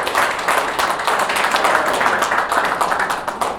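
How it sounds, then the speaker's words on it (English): Applause for a new team leader at a Little Rock press conference, a dense, steady burst of many hands clapping close by for several seconds, no one speaking over it. "Let's give Arthur a big round of applause."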